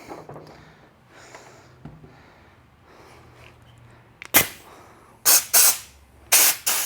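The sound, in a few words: compressed air gun blowing out a motorcycle engine part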